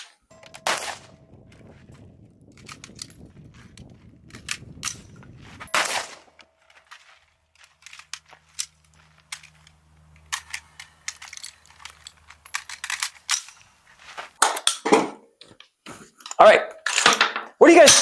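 Rifle shots ring out as a cluster of sharp, loud bangs near the end, after a stretch of clicks and quiet handling noises, with a person talking around them.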